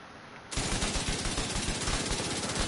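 Rapid automatic gunfire from The Division 2, a dense, loud, unbroken rattle of shots bursting in after a half-second lull and continuing steadily to the end.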